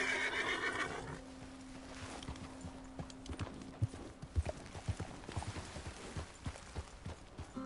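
A horse climbing a hill in Red Dead Redemption 2, with steady hoof clip-clops on the ground and a brief whinny near the start, close and fairly quiet.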